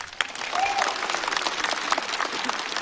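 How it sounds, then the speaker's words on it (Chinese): A stand-up comedy show audience breaks into sustained applause for a comedian, with a brief voice and a faint whistle amid the clapping. "来，我们再次把掌声送给白小白。"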